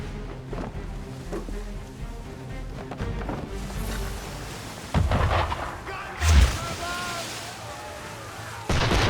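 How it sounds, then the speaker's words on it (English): Ship cannons fire in Assassin's Creed III, several heavy booms landing around the middle and end over a rumbling sea-battle backdrop, with voices talking in between. "Why is he shooting at us?"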